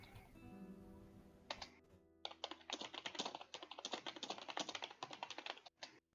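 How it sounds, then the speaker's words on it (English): Loud, rapid typing on a computer keyboard, close and alone, with dense clattering keystrokes after a quiet start and brief pauses. "That's a lot of loud typing."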